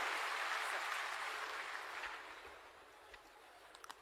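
An audience at an official Bihar government event for Ravidas Jayanti applauds to welcome a senior officer, a quiet, fading wash of clapping heard from a distance that trails off over a few seconds.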